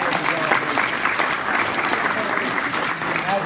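Loud, sustained applause from an audience at a 4-H gathering in Georgia, with continuous clapping mixed with scattered cheers and voices throughout.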